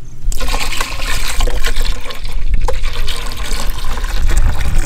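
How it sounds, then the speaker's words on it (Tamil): Tender coconut water and ground coconut milk pour steadily into a pot for elaneer payasam, a continuous splashing liquid fill that stays loud and even throughout. "இப்போ இளநீர் ஊற்றி அரைச்ச தேங்காய் பால் சேர்த்துக்கலாம்."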